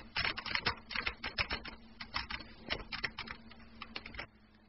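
Rapid keystrokes clatter on a computer keyboard as a command is typed, a dense run of close clicks lasting about four seconds before stopping.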